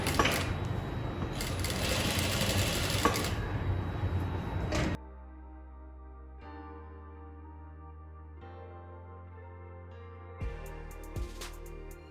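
A sewing machine runs a seam over a folded bias piece on a baby frock's neckline, a loud continuous whir for about five seconds, followed by a low hum and a few brief stitching bursts near the end.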